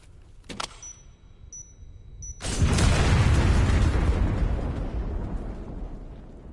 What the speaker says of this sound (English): Let's blow it. Kaboom